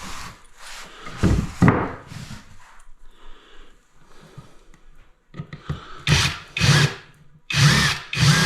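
A power drill driving screws into wood while framing a shower seat: close, loud whirring bursts of varying length separated by short pauses.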